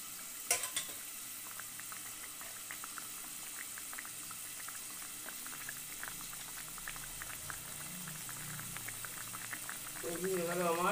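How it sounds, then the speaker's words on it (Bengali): Mustard-oil fish curry bubbles at a steady boil in a pot, a constant soft hiss with popping bursts and occasional stirring or clinks, moderately close and without talk. "ঝোলটা কি সুন্দর ফুটে উঠেছে।"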